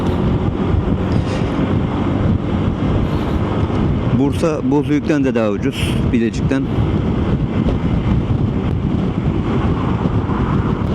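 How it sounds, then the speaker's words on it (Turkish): Heavy wind buffeting the microphone, a constant low rumble filling the whole clip, with someone talking briefly in the middle. "Rüzgar yine çok fazla"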